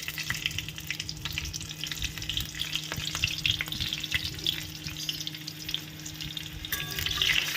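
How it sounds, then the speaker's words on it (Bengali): Nigella seeds tempering in hot mustard oil in a pan sizzle and crackle steadily and fairly loud, with stirring scrapes, a low steady hum beneath, and a brief watery splash near the end. "সর্ষের তেল দিয়ে তারপরে কালো জিরে ফোড়ন দিয়ে দিচ্ছি"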